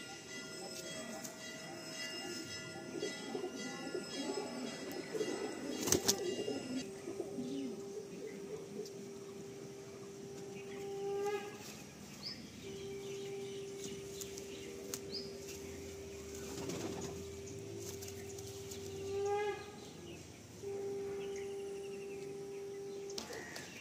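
A pair of Lalshira-type pigeons in a home loft at Barasat coo faintly in scattered low phrases, with occasional chirps and a steady drawn-out tone running in the background.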